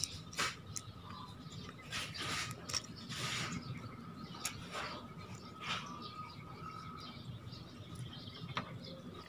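A Fugu Tora 4000 spinning fishing reel has its rotor fitted, giving faint clicking, ratcheting and small metal knocks scattered over a quiet background, close and irregular, with no speech.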